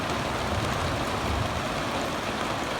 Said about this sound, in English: it just started to rain